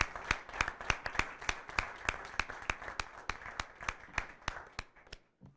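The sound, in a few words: school board meeting audience applause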